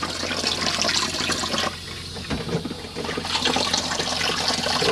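Hot water runs steadily from a tap in a Chausson 640 Titanium motorhome while its water pump works, giving a continuous close rush and splash with a faint low hum beneath.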